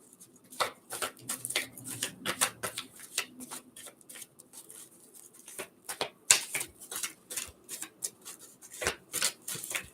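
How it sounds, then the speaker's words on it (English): Tarot cards shuffled by hand, a long run of quick crisp riffles and soft slaps in uneven bursts, close and quiet with no talk. "We'll give it a good shuffle."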